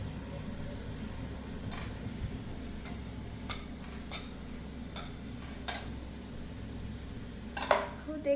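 Homemade hair oil with hibiscus and curry leaves simmering in a pan gives a low, steady bubbling sizzle, broken by a few sharp clicks and taps of a spoon against the pan.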